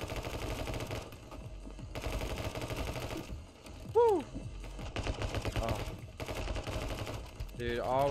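Rapid bursts of gunfire from spammed shots in the video game My Friend Pedro, fired in dense clusters separated by brief pauses, with sweeping tonal game effects between the volleys.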